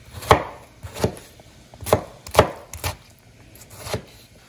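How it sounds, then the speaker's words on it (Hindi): Tomatoes being chopped with a knife on a cutting board, about eight distinct, close thuds at an uneven, brisk rhythm, with no talking. "अब मैं इसमें फटाफट वो क्या कहते हैं, टमाटर चॉप करके इसमें डाल दूंगी"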